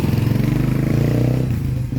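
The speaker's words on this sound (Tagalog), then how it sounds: "Abanti muna natin sa motor ng konti" A motorcycle idling and rolling slowly forward, its engine giving a loud, steady low throbbing pulse close by for the whole stretch, with no voices.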